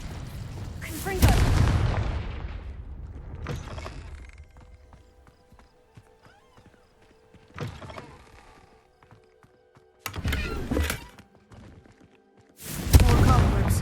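Confringo fire spells from the Hogwarts Legacy video game go off in several loud, sudden blasts spread across the stretch, with quieter gaps and faint ambience between them and character voices in places.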